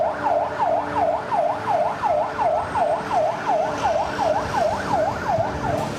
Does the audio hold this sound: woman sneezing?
no